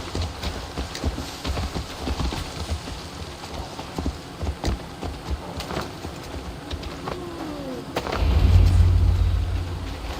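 Horse hooves clip-clop steadily in Assassin's Creed Valhalla, a game soundscape with rain-like hiss and a low rumble swelling near the end; no talk.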